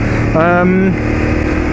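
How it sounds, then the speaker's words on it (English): Ducati 848 motorcycle with standard exhaust, a loud close engine note with a short rising pitch sweep, heard under someone talking. "this has got standard exhaust on it. It's a little bit quieter"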